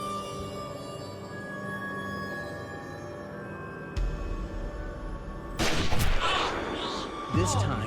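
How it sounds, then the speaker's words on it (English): A sniper's rifle shot fired from the back of a house in Ancaster, Ontario, in a crime reenactment: a low thud, then a sharp, loud blast with a ringing tail over a tense, sustained music bed. "An unknown shooter fires from the back of the house."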